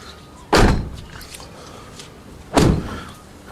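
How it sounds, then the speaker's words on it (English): A 2012 Ford F150 Raptor door shuts twice, each a solid, close thump separated by about two seconds, with no talk over it. "Close the door so I can do this properly."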